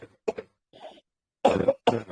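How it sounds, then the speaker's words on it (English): An elderly person coughing in a quiet room, a few short dry coughs followed by two louder, harsher hacking bursts close to the listener. "it wears me out coughing"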